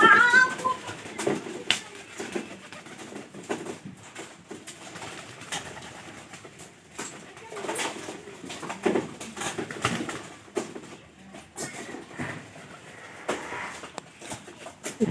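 Pet pigeons, including Giribaz cross birds, cooing in their loft, soft repeated coos and occasional wing flutters close by over a quiet background, with faint human sounds now and then.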